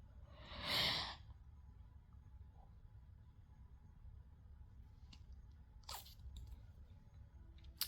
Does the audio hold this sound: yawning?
yes